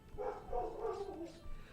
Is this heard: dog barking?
yes